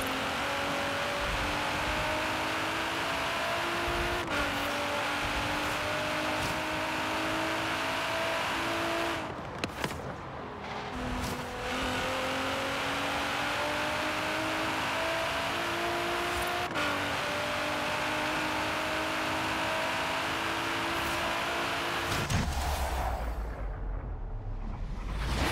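Nissan GT-R engine racing in Forza Horizon 3, a 1200-horsepower build, revving hard through repeated rising gear pulls with brief shift breaks, loud and continuous without talk.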